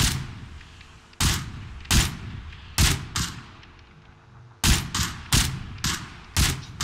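Gunfire in the video game PUBG comes as a string of loud, sharp single shots and short bursts at uneven intervals, some close together, with no talking over them.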